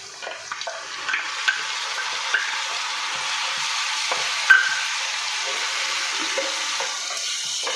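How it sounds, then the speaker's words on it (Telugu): Ginger garlic paste frying in oil with onion and green chili for a prawn fry, a steady bright sizzle with occasional stirring knocks, close and continuous, no speech. "అల్లం వెల్లుల్లి పేస్ట్ ఒక టూ మినిట్స్ ఇలా ఫ్రై చేసుకున్న తర్వాత"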